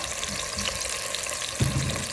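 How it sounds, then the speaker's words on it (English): Beef frying in a pan as it is seared for stew, a steady close sizzle throughout with a brief louder thump or stir near the end. "Now, when you sear it, you want to make sure that it has a little bit of crust."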